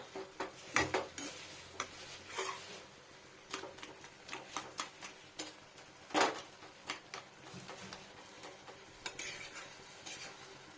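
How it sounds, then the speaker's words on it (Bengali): Fish roe and raw pumpkin being stirred together in a pan, a spatula scraping and clinking against the metal in repeated close strokes over a faint sizzle, with no talking. "এবারে একটু মিলিয়ে নেবো ভালো করে"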